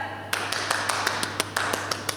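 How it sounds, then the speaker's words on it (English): Children at a school assembly clap their hands together in a steady, evenly spaced rhythm of about a dozen crisp claps, heard over a constant low hum in the hall. "Should we give them a round of applause?"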